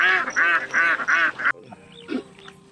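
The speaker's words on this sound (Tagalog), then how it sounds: "nakakatuwa yung mga itik natin" Several ducks quack in a rapid, loud burst of five honking calls close by, followed by a quieter stretch with a softer single call.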